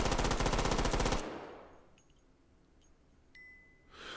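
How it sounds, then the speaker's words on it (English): A rapid burst of automatic gunfire in the Hot Dogs, Horseshoes & Hand Grenades game cuts off, followed by a few faint, thin metallic tings of bullets during a gun reload. "Those are bullets. It's reloading."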